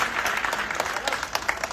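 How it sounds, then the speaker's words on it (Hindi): A political gathering in Indore breaks into loud, steady applause welcoming an arriving party official, a dense crowd clapping throughout with no talk. "उनके लिए जोरदार तालियों से एक बार हम सब स्वागत कर रहे हैं।"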